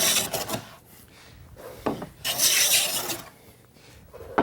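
A hand plane scrapes along a wooden board in several uneven strokes, rasping and hissing as it shaves high spots, close by with brief pauses between passes.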